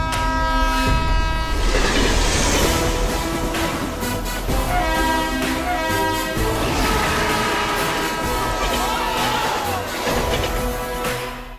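A passenger train rolls past close by, its loud sustained horn blaring over the rumble and rattle of wagons on the track, with the pitch of the horn shifting as it goes.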